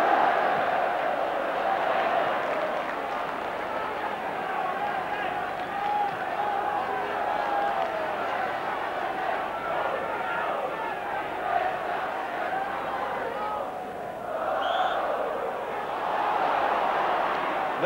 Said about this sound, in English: Large crowd enthralled by this now, with a quarter of an hour of the second half gone.